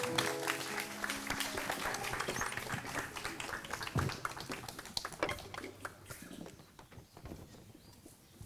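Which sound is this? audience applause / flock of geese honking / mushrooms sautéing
audience applause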